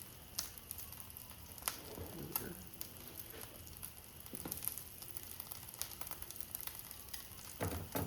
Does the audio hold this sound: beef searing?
yes